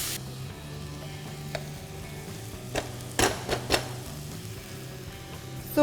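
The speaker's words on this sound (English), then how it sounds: "let's add in a cupful of chopped tomatoes and give it a good mix" Chopped tomatoes going into browned onions in a pan, with a soft sizzle under scattered scraping clicks of a spoon stirring and a few sharper knocks against the pan.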